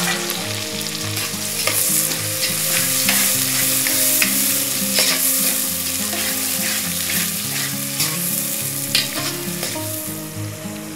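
Finely chopped onion frying in oil for chicken biryani makes a loud, close, steady sizzle, broken by repeated scraping stirs, with a tonal hum running underneath.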